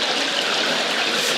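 Steady, broadband splashing and rushing water fills an indoor swimming pool, continuous and fairly loud with no pauses.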